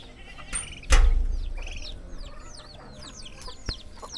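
Chicken clucks and squawks come in short bursts from nearby, with a sharp thump early on and a noisy outdoor background.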